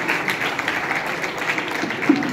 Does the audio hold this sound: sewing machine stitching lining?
no